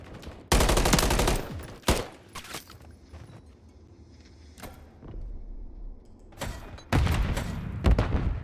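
Gunfight in Call of Duty MW3 ranked play: loud, sharp bursts of automatic fire near the start and end, with scattered single shots and thuds in the quieter middle stretch.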